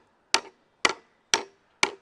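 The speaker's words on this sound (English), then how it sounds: "I just need the hammer for just get the LB to go into the wood a little bit" Four evenly spaced hammer blows strike a lag bolt being driven into wood, each a sharp close knock with a short decay.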